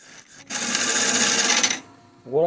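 A cedar vase being hollowed on a wood lathe gives a loud, rough scraping rasp as the tool cuts into the mouth for about a second. It stops abruptly and a brief voice follows.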